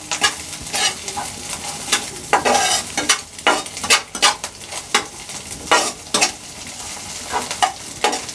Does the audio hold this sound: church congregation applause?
no